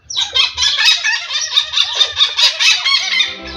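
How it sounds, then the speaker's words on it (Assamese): A flock of hornbills calls at an eco resort beside Pobitora wildlife sanctuary, giving loud, close, continuous honking and squawking calls that overlap in rapid pulses, with no voices. "পবিতৰাৰ কাষৰ এখন ইকো ৰিজৰ্টত এজাক ধনেশ চৰাই।"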